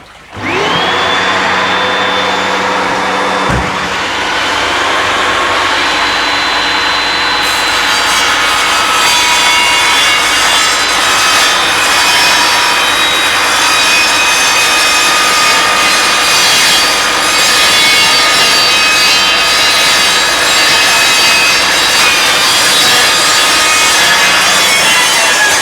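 Loud, continuous power-saw cutting through acrylic sheet for a shrimp tank, starting abruptly after a brief lower hum and running steadily without a break, with bright high whine and grinding texture.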